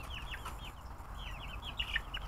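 Baby chicks give repeated high, thin peeps and chirps in quick bursts, fairly close and steady over a low background rumble, with no talking.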